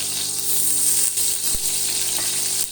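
Ghee heats and sizzles in a kadhai for a beef keema karahi: a steady, loud, bright frying hiss that continues throughout, with one sharp click partway through.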